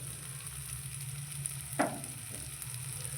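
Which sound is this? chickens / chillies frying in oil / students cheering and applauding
chillies frying in oil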